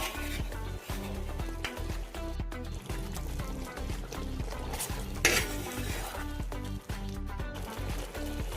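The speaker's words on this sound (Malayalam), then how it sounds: "10 മിനിറ്റിന് ശേഷം ഒന്നുകൂടി കുരുമുളക് പൊടി ചേർത്ത് നല്ലവണ്ണം മിക്സ് ചെയ്ത് കൊടുക്കാം." Chicken curry with black pepper powder being stirred in a pot, heard as repeated close scraping and clinking of a utensil against the vessel under a thick, steady layer of background music.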